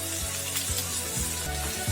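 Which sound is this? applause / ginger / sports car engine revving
ginger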